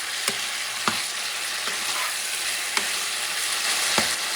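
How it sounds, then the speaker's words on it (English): Dry hot peppers fry in a pan for kung pao chicken, giving a steady close sizzle with sharp stirring clicks about once a second and no voices. "My dry hot peppers, I'm going to add them now. I'm going to cook this for another minute."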